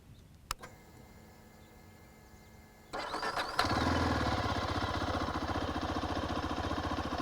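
A Zontes GK350 motorcycle engine starts after a few clicks and settles into a steady, close idle with an even low thrum.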